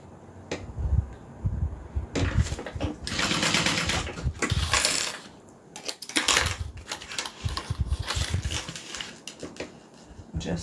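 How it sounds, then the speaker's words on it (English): A domestic sewing machine stitches a few seams in short irregular bursts with pauses between runs, close and moderately quiet against a faint room background. "Just sewing"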